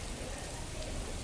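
Rain falls steadily near Dhurwa Dam on Independence Day, a dense, even hiss that stays faint and unbroken throughout.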